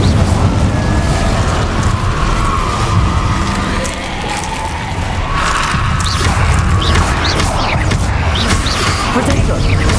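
An Incendio fire spell in Hogwarts Legacy flares amid repeated crashing, mechanical clanks and bursts, loud and busy throughout with a brief dip midway, and faint speech-like sounds mixed in.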